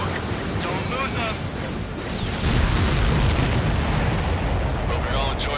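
Loud, rumbling explosions in Ace Combat 7, heard from an ADF-11F flight. They form a continuous heavy boom and crackle that grows stronger and denser partway through, with bursts piling over one another.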